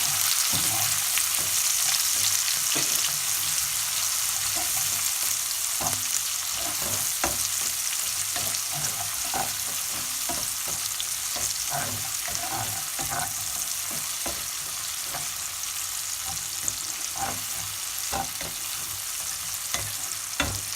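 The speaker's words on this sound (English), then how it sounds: "give that a little stir" Vegetables with tomatoes frying in a pan and being stirred, a steady close sizzle with repeated scraping clicks of the spoon throughout, no talking.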